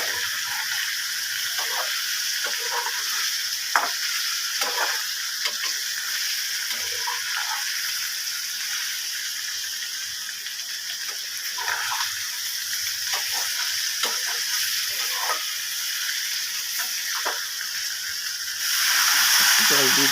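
Ghugni spices frying in a pan with steady sizzling and occasional stirring clicks, continuous under the cooking, with a louder hiss near the end as water is added.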